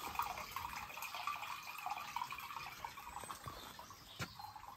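Water poured down a sink drain during a household drain survey, a steady faint hiss of running water with a few small splashes and drips, fairly quiet and continuous throughout.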